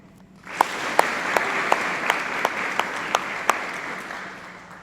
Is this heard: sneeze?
no